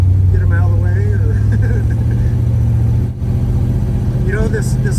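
Loud, rumbling idle of a hot rod family sedan engine with a deep, steady low throb throughout, briefly dipping once, while people talk over it.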